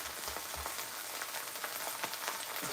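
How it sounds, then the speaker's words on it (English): Beans frying in a pan make a steady, close crackling sizzle with quick scattered pops throughout, heard alone without talk. "You hear that sizzle? That is exactly what you want."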